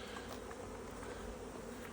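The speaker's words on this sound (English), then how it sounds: "Bees swarming around in here" A dense, steady hum of roughly 1.5 million bees swarming inside a Bee Cube hive, a continuous buzzing drone heard close up with no talking.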